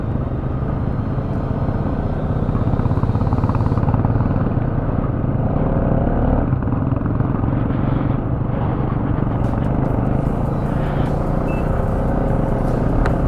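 A motorcycle rides a snowy mountain road over Baralacha La pass on the Leh–Manali highway, a continuous loud engine drone mixed with wind rush and road noise.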